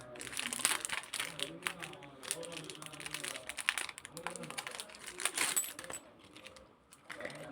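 Crinkly plastic packaging on a purchased item, a stone-studded piece, is unwrapped up close in scattered rustling and crackling bursts, while a person talks over it.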